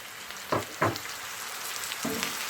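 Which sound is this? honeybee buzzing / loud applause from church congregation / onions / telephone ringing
onions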